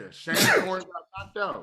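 A sudden sneeze bursts out in a talk-show conversation between people discussing wrestling, loud and close, followed quickly by brief talk.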